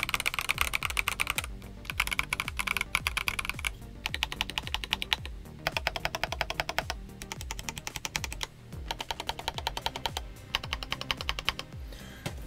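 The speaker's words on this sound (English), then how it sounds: "But when I started typing on it" Rapid, clicky keystrokes on a GK75 mechanical keyboard come in bursts with short pauses, crisp and close, with no one talking.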